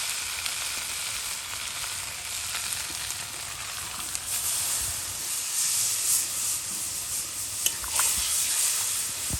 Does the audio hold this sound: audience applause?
no